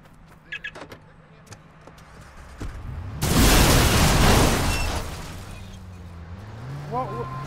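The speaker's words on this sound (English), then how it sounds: "Did my bike really blew up?" A motorbike blows up in Watch Dogs with a sudden loud blast and roaring burst that lingers for about two seconds, then decays into rumbling game sounds with a voice speaking nearby.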